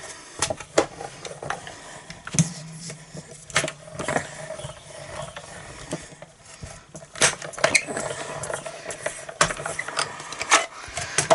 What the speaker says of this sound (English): it's a little bit easier than going back to my big die cutting machine, and I'm just going to put this through here